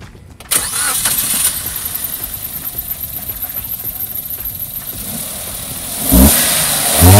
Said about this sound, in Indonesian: Yuk kita start up dulu.